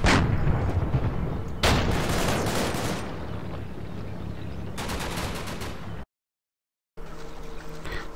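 Tank fire and gunfire in a Combat Mission Market Garden battle: loud booming shots and bursts of automatic fire in several waves, close and dense, with a short silent gap near the end and no talk.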